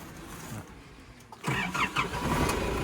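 A Nissan Urvan 3.0 turbo intercooler van engine cranks and catches about halfway through, then settles into a steady running rumble, close by with no talking.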